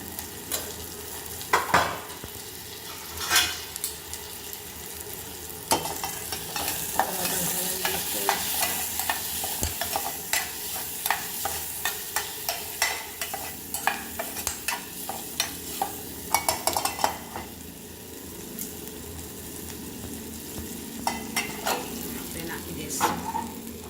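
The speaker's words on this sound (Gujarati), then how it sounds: "દાળમાં આપણે બનાવી રહ્યા છીએ ગુજરાતી ખટ્ટી મીઠી દાળ, ખાટી અને ગળી." Turmeric and chili go into Gujarati sweet-sour dal with ongoing stirring and a soft sizzle, the scrape of a spoon recurring irregularly over a steady frying hiss at moderate, close level.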